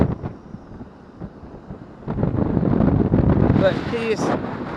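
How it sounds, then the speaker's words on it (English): Strong wind on a sea fishing beach at Trunch Lane, gusting and rumbling against the microphone and growing louder toward the end, with someone talking over it. "I'm sorry about the wind."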